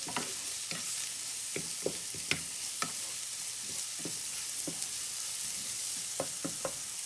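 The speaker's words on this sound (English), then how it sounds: "You want to cook your garlic until it becomes fragrant." Garlic fries in a pan with a soft, constant sizzle, broken by a string of light clicks and taps from stirring, close by with no one speaking.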